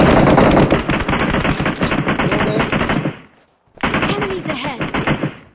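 Rapid automatic gunfire in a battle royale video game rattles out in dense, loud bursts, breaks off for a short silence, then resumes with more volleys and scattered shots.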